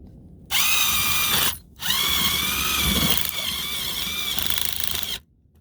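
An impact wrench struggles to drive a tie-down stake into the ground at an angle, a loud close whirring hammering burst, a brief pause, then a longer strained run lasting several seconds before cutting off.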